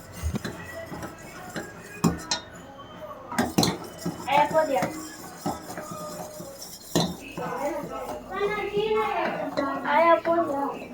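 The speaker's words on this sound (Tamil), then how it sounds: "இப்போ எங்கள் பாட்டி தான் கலக்கிட்டு இருக்காங்க" A grandmother stirring homemade almond milk in a pot, with clinking of a metal spoon against the vessel and dishes, while children and adults talk over it.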